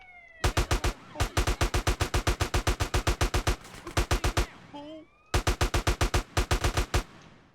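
Rapid bursts of automatic gunfire from GTA San Andreas, loud and close, firing in long rhythmic volleys with a short pause and a brief electronic chirp before a final burst.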